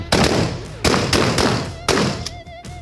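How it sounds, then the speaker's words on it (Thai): A combat shotgun fires at a range during a test of shot grouping. Loud, close blasts ring out at irregular intervals, several in under three seconds, each followed by a short echoing tail. "ขอนัดเดียวนะครับ เตรียมพร้อมยิง"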